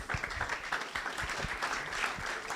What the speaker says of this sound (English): a big round of applause again for Omar